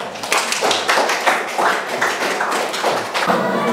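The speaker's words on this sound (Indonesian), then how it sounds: "Berikan aplaus buat teman tak" A classroom audience claps for a classmate after a presentation, a dense burst of close, loud applause with uneven hand claps that carries on for several seconds.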